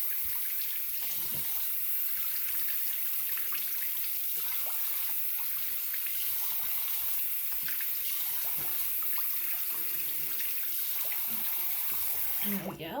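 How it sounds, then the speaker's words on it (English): Cold water runs from a sink tap in an evening bathroom routine, a continuous close splashing stream that holds steady throughout. "Now I'm using cold water."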